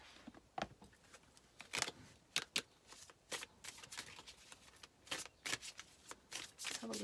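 Tarot cards being shuffled by hand, a run of quick crisp riffling bursts and soft slaps at uneven intervals, close and fairly quiet, with no talking.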